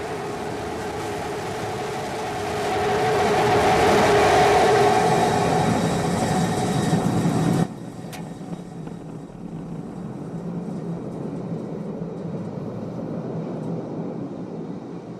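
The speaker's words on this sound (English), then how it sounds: "We have ignition. Starship heading back to the landing zone." A SpaceX Starship rocket engine ignites during landing with a loud, broad roar that swells over several seconds and then cuts off abruptly, leaving a low residual rumble.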